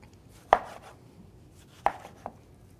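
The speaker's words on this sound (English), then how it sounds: "So we'll cut these up small enough to put into the blender." A knife chops grilled vegetables for gazpacho on a cutting board, three sharp, close strikes spaced irregularly over a quiet background.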